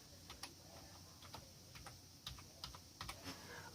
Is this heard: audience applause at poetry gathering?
no